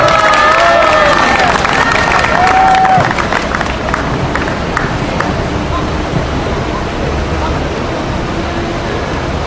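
A crowd at an outdoor protest rally claps steadily and loudly, with cheers and a couple of whistles early on, then settles into a broad, sustained wash of applause that fills the clip.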